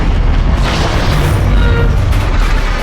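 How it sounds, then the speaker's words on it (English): Massive bomb blast tearing through a US warship during the Pearl Harbor attack, a loud, sustained rumbling roar of explosion and debris filling the whole clip without pause. "Bombs fell straight down from a height of 40 meters, directly pierced through the deck, along with the ammunition in the warship with the explosion."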